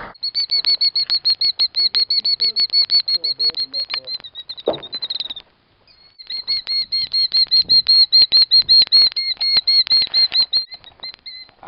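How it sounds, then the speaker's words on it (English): An agitated bird near its nest in St. Louis gives rapid, repeated high-pitched alarm calls in steady bursts, loud and close, with a brief pause midway before the frantic calling resumes. "This bird is freaking out on us."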